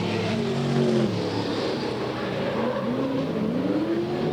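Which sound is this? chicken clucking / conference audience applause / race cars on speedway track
race cars on speedway track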